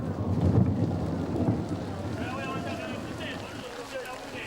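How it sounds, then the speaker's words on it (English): Heavy rain from a huge thunderstorm falling over a football stadium, with a steady broad roar and low rumbling. Faint voices are heard beneath it. "A huge thunderstorm dampens the hooligans' enthusiasm for the fight."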